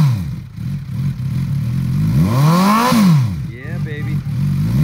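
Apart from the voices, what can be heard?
2008 Suzuki GSX650F inline four-cylinder motorcycle engine revving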